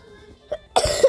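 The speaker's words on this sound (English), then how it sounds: "That's hard to say without coughing." A single person coughs once, a brief throaty burst following a faint catch of breath, close and fairly loud while a Plants vs. Zombies level plays.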